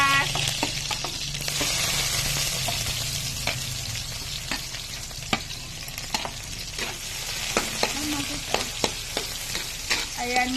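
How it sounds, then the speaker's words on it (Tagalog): Garlic and onion sizzling in hot oil in a pan, a steady crackling fry with spattering pops and sharp utensil clicks and scrapes scattered over about ten seconds. "Ipainitin ang ating mantika. Ayan, mainit na po. Unahin natin ang bawang. Tumatalabsik na po."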